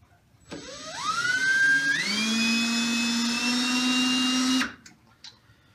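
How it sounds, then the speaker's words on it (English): An electric drill twisting wire straight: a steady motorized whir rises in pitch as it spins up, holds a continuous high whine for about three seconds, then stops abruptly. "grab on the far end of the wire, squeeze it really hard, start turning the drill"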